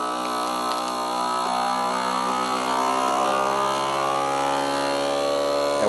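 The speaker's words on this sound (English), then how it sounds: "Turn on the sealer." A vacuum sealer pumps the air out of a plastic bag holding fish, giving a steady, loud motor drone that holds at an even pitch for the whole stretch with no talking.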